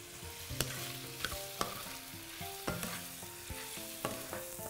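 Shrimp, onion and mushrooms sizzle steadily in a hot pan while a utensil stirs them, scraping and knocking against the pan at irregular intervals close by.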